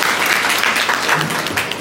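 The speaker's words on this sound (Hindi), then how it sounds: "ताली बजा दीजिए दोनों बहनों" An audience at a Hindi spiritual talk claps steadily throughout, a dense and loud patter of many hands with no speech over it.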